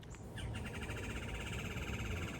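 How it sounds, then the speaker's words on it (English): Birds chirping in trees outside on a peaceful morning, repeated high twittering calls at moderate distance over a soft steady background hum. "there's birds playing in the trees"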